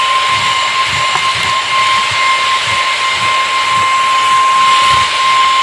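A VacTechPro V15 Ultra cordless stick vacuum runs with its brush head removed, making a loud, steady airy whoosh with a thin high whine that holds constant at close range.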